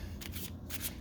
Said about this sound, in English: I'm going to now shuffle really quickly